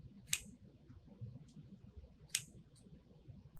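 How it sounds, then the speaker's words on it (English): Scissors snip ribbon tails into dovetail ends while a Christmas grapevine wreath is being made, giving two crisp, separate cuts about two seconds apart over a faint low murmur. "now I'm gonna take my scissors and I'm just gonna start dovetailing"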